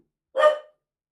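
A dog gives a single short, sharp bark, close and loud, with silence before and after.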